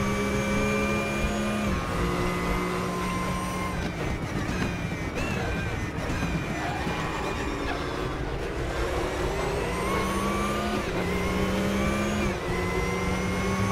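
A Porsche 911 GT3 Cup engine drones through laps of the Red Bull Ring in the RaceRoom racing game. The loud, steady roar rises and falls with gear changes and throttle, with no talking over it.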